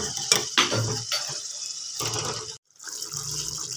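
Half a glass of water poured into onion curry cooking in a pan, close splashing and sizzling in short bursts, with brief clinks of a utensil and a moment of silence.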